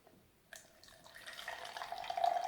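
Liquid magnesium chloride solution (nigari) pours into a measuring cup, beginning abruptly as a thin, steady trickle that grows louder and fuller as the cup fills, with no talk over it.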